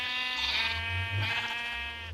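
A sheep bleats in the Minecraft-style video game, a loud, close, drawn-out wavering call that goes on for about two seconds, followed by a brief sharp click at the end.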